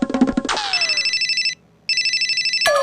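Telephone ringback tone after dialing: a rapid pulsing electronic ring repeated in two bursts separated by a short silence, clear and close, with brief clattering sounds at the start and end.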